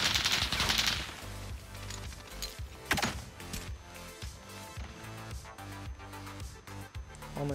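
Rapid bursts of gunfire in a shooter video game, loud repeated automatic shots with a heavy opening volley and a sharp crack midway, layered over dense game sound without talk.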